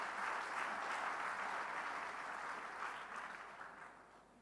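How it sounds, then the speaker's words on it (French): Audience applause after a speech by Côte d'Ivoire's Vice-President, a dense sustained clapping from a large crowd that stays steady and then slowly fades toward the end, with no talking over it. "Je voudrais qu'on l'applaudisse."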